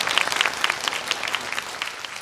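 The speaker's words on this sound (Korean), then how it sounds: "다시 한번 큰 박수 부탁드릴게요" Audience members at a university admissions information session applaud a speaker, producing a brief burst of scattered, crisp handclaps at moderate loudness with no speech.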